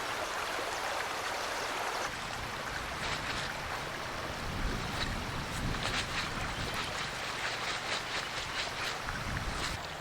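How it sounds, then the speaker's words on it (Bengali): Strong river current rushing past where fish are being hauled in, a steady loud wash of flowing water throughout with faint splashes and no speech. "জলের এত স্রোত দেখুন দড়ি ধরে ধরে আসতে হচ্ছে"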